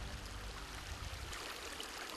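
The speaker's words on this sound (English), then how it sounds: "the water that flows from this mountain is also good for you" Cold mountain spring water flows in a continuous broad rush, steady and close, with no voices.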